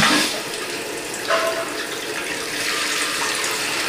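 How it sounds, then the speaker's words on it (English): Water rushes steadily into the tank of an American Standard Cadet 3 dual flush toilet, a continuous hissing flow with a slight surge early on, no voices. "I'm gonna turn the water on."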